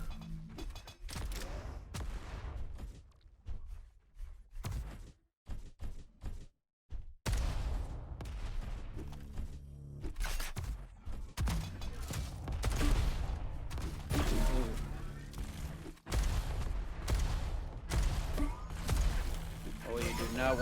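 Rocket launcher fire and explosions in the arena shooter Diabotical during a competitive duel match, dense repeated blasts and booms throughout, loud, with a commentator talking over much of it.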